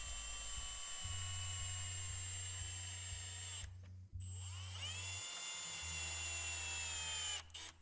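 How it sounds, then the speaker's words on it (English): A cordless drill whines at high speed in repeated bursts, driving three screws to secure a halo ring into a Jeep JK LED headlight housing, with short pauses between runs and no talking. "take your drill and secure the ring using the 3 screws"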